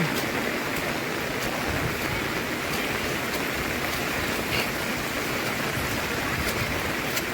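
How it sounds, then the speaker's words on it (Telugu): Heavy rain pours down continuously over rice paddy fields in a steady, dense roar with no pauses, close and loud throughout. "వర్షం అయితే కంటిన్యూగా పడుతూనే ఉంది ఎక్కడ కూడా వర్షం అనేది ఆగటం అయితే లేదు"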